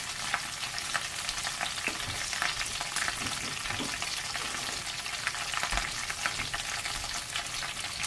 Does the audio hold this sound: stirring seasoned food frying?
yes